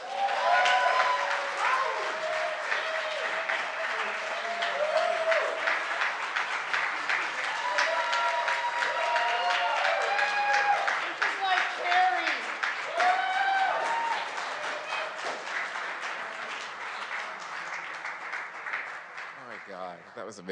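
An awards ceremony audience applauds, steady clapping running through the whole stretch, while loud cheering and whooping voices rise over it and gradually ease off.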